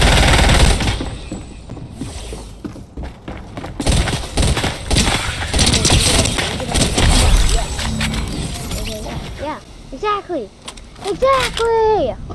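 Gunfire in the Fortnite video game, dense bursts of rapid shots and crackling impacts filling most of the stretch, with excited talk and shouting over it and some chirpy synthetic effects near the end.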